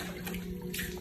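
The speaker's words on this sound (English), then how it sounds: "I will stir the water so that the salt dissolves very well." Salt water being stirred, a brief close sloshing and trickling of liquid over a steady low hum, with no voices.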